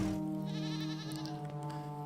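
A goat bleats in a puzzle video game, one long wavering call that holds steady and loud for about two seconds with no talk over it.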